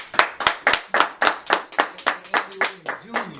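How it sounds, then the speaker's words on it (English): Steady, rhythmic hand clapping welcomes a guest at a community gathering in Aurora: about a dozen even, close claps in a regular beat, with a voice faintly entering near the end. "Y'all give him a round of applause."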